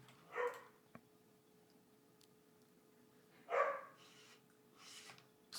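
A dog indoors gives a few separate barks, spaced apart with quiet between them, and sounds moderately close over a faint steady hum.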